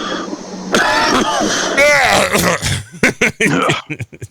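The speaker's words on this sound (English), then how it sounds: "These guys just coughing." Throat clearing and coughing, rough and close, blending into a burst of muffled voices and choppy noise.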